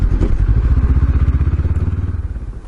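Honda CB500X motorcycle engine thumps in a steady pulsing rhythm that slows and fades as the bike pulls over and rolls to a stop, heard close with no talk.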